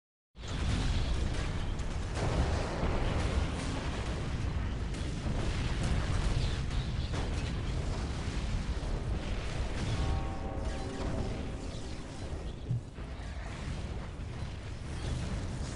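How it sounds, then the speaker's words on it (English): Continuous heavy rumbling with repeated deep booms and blasts, loud and dense throughout, from massive explosions in a Dawn of War: Ultimate Apocalypse battle between Necrons and Imperial Guard. "I don't know what those massive explosions are."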